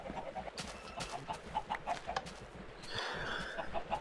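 Chickens clucking in the video game Minecraft, a few short soft clucks scattered over quiet background noise, faint and with no voices.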